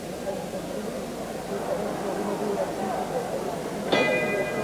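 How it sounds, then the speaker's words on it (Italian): A boxing-match gong strikes once near the end of a round, its ringing tones briefly cutting through the constant roar of the crowd and an Italian commentator speaking over the arena noise. "Mentre suona il gong"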